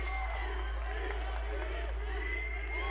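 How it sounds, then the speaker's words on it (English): At the Bethesda E3 2017 showcase, a distant, muffled crowd cheers and whoops steadily behind a constant low hum, with no clear individual claps. "I can't even imagine the size of the bar tab that it paid for that applause"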